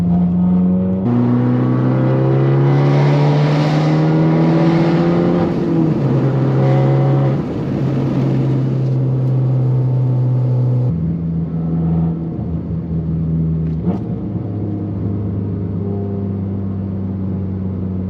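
A car engine held and revved through a raspy exhaust band near 3000 rpm after clutch work, its loud steady drone stepping up and down in pitch over several sustained holds, with no talk.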